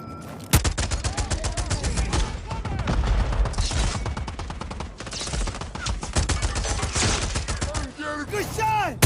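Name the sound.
gunfire in a video game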